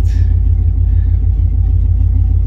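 Car engine fitted with a Holley Sniper EFI throttle body, given a little gas: a loud, close, steady rumbling idle with a brief rev at the start, no talk.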